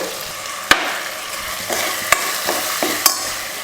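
Toor dal being sautéed in hot oil, with a steady close sizzle under sharp, irregular scrapes and clinks of a stirring spoon against the pan, and no voices.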